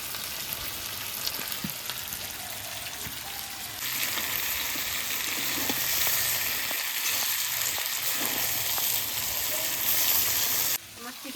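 Potatoes go into a pan of braised chicken and fry with a dense, steady sizzle that grows louder partway through, with faint stirring scrapes and a brief drop at the end.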